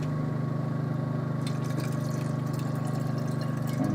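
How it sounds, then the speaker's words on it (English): Water pours from a bottle into a food pouch for a Lithuanian MRE of stewed beef with groats, a steady close gurgling stream running for several seconds. "Just top it up with the other bottle of water."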